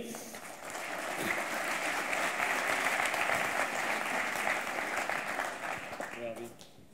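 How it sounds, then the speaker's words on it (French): Conference audience at the 15th UNIVERSWIFTNET event in 2018 applauding Mathieu Roux, a broad steady swell of applause that builds and holds for several seconds before tapering off, heard at a distance. "Je vous demande de l'applaudir"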